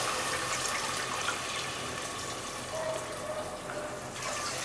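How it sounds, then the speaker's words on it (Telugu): Glasses of water are poured into rice for bagara rice, a steady splashing rush of liquid running continuously at moderate loudness with no talk. "5 glasses ఆఫ్ వాటర్ అయితే వేసుకోవాలి"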